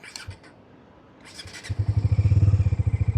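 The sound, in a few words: motorcycle exhaust idling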